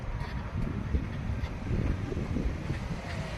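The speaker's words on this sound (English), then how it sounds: "It's a bit windy out here too" Low, buffeting wind noise rumbles against the microphone throughout, a steady gusty roar with no voices.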